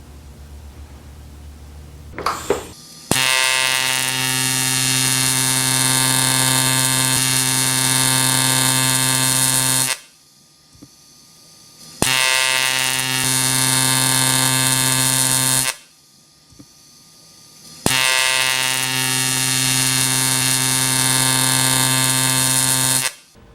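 TIG welder tacking 3003 aluminum: three sustained, loud bursts of harsh electric arc buzz, each lasting several seconds, separated by short silent gaps.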